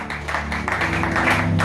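A church congregation applauding the Lord, steady dense clapping from many hands with a lively roomy spread, moderately loud and continuous, without talk over it.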